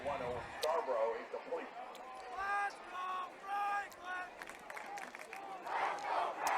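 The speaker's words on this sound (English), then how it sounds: "the pink out crowd in their pink for Breast Cancer Awareness Month, cheering, "Let's go Franklin."" A pink-out home crowd at a high school varsity football game chants a rhythmic cheer in repeated bursts, echoing in the stands from a moderate distance, with a broadcaster's commentary audible alongside.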